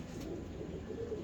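A pigeon coos softly in a faint, brief stretch against a steady low background hum, with no talking.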